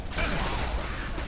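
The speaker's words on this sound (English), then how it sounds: "Reloading!" A weapon being reloaded in Left 4 Dead 2 makes a short, close mechanical clack and rattle of about a second, with no talk.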